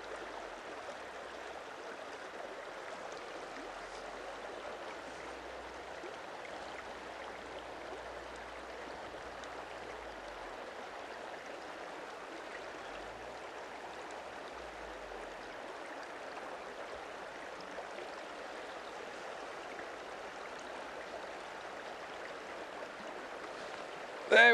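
A small, shallow stream runs steadily throughout, a soft, even wash of flowing water heard from close by, quiet and unbroken with no voices.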